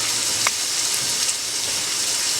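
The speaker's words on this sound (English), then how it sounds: "we're filling up the sink with cold water." Cold water runs from a kitchen tap into a sink, a steady broadband rush that stays even and close throughout, with a faint clink near the start.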